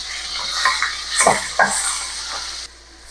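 Onion, garlic and ground meat sautéing in a hot pan, a crackling sizzle broken by a few sharp stirring scrapes and clinks against the pan, ending with a quieter, fading tail.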